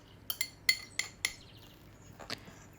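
Chocolate, milk and oil batter is mixed for a Black Forest yule log, heard as four or five sharp clinks of a utensil against a bowl in quick succession, then a pause and one last softer knock, all close and quiet.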